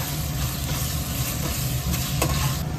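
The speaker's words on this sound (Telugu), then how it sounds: "ఈ పేస్ట్ కూడా మంచిగా కలిపి ఈ అల్లం వెల్లుల్లి పేస్ట్ స్మెల్ పోయినాక మంచిగా ఆయించాలండి" Ginger garlic paste fries with onions in a pan, a dense continuous sizzle with a steady low crackle and one brief sharper scrape near the end, close and fairly loud.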